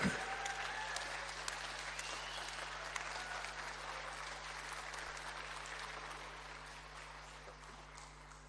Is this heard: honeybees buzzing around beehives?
no